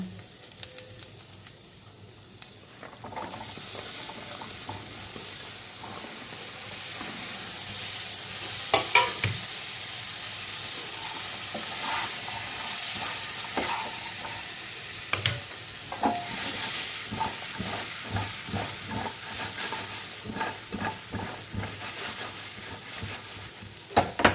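Pointed gourd and tomato frying in a pan over garlic, with a steady close sizzle broken by repeated scrapes and knocks as a spoon stirs the vegetables, going on for the whole stretch with no voices.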